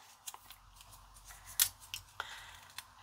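Scissors snip through paper while a handmade paper lily card is shaped, giving a few quiet, sharp cuts spread across a faint, otherwise still background.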